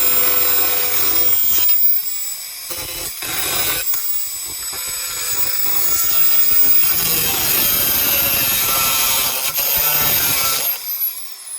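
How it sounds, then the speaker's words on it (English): A larger angle grinder works steel near a motorcycle frame's serial number, a sustained loud abrasive whine with brief breaks around the second and fourth seconds, then continuous grinding to the end. "I will try to preserve that here using a bigger grinder."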